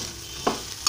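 Okra frying in a pan sizzles steadily and close, and a spoon stirs it with two quick scraping strokes. No one speaks.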